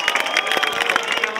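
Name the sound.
crowd clapping at a funfair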